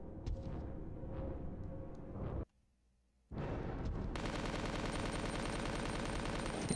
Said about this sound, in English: I'm gonna try smoking him with the SMG.